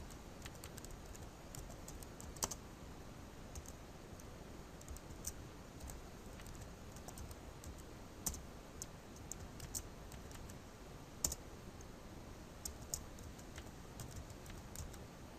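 Soft, fast keyboard typing on a computer while entering text into a PowerPoint 2013 slide, a steady stream of faint clicks with a few sharper key taps, alone with no talk.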